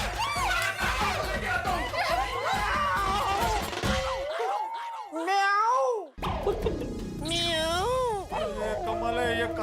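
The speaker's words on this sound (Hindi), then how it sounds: "कमाल है, ये काली बिल्ली कल से पीछे पड़ी, अभी घर में भी आ गई।" A black cat meows inside a house, a few drawn-out cries heard among loud voices and background scoring in a comedy scene.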